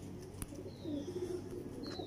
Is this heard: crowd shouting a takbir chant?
no